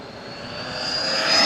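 Arrma Typhon 223S RC car with its stock motor on a 4S battery, a high electric whine that swells steadily louder as it accelerates, heard alone with no talk.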